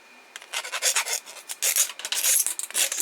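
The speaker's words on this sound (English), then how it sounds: "Scrape it with the edge of the scraper." A scraper rasps over rough patches on the heat bed of a Creality Ender 5 Plus 3D printer in quick, loud, close back-and-forth strokes with brief pauses between them, and no voices.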